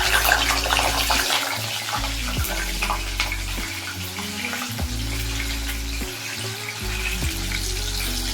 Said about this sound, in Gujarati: એક બાજુ ડુંગળી ફ્રાય થાય છે